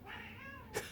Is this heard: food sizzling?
no